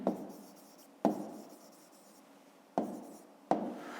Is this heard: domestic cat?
no